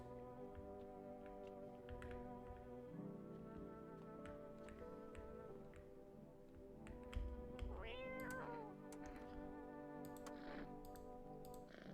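Cat meowing in the video game No, I'm Not Human, a short rising electronic-sounding mew heard once near the middle over steady game music and ambient tones.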